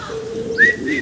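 A brief call from a pair of fancy shouking pigeons: a low hum with a short, higher, whistle-like note near the middle, heard close.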